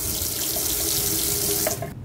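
Water running from the tap into a tiny house sink, a steady close rushing stream that flows evenly for about two seconds before cutting off abruptly at the end.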